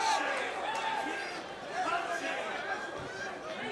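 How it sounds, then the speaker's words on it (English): Crowd at an LFA mixed martial arts event roaring and cheering steadily throughout, a dense continuous wall of many voices at fairly strong level, rising slightly midway. "the crowd rallies"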